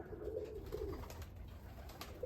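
Pigeons of the Budapest breed at a dovecote, giving soft cooing calls over a steady low murmur of birds close by, with no talk.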